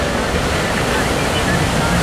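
Ocean surf breaks at Ho'okipa Beach Park on Maui during a sprint paddle race, a dense, steady roar of whitewater and wash filling the scene, with faint voices mixed underneath.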